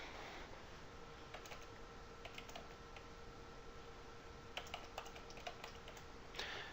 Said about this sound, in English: and then type a name for the database.